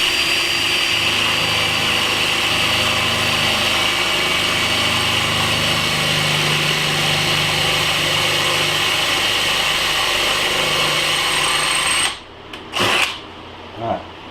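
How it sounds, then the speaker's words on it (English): A drill bores a quarter-inch hole through a metal piece for a guitar tremolo blocker, a steady loud whirring grind that runs for about twelve seconds and then stops, followed by a couple of brief knocks. "we're going to drill the 1/4 inch hole up here"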